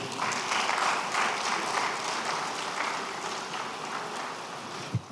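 Steady, dense applause from a conference audience fills the hall, even and sustained throughout with a single sharp knock near the end.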